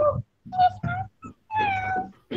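A voice imitates a cat with four or five short, close meows in quick succession, separated by brief pauses.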